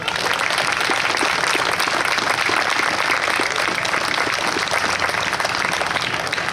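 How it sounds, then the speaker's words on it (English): Audience applause at a New York State Police special operations response team demonstration, a dense, steady wash of clapping from a sizeable crowd that holds level throughout without pause. "we think it's those guys that deserve a real round of applause today"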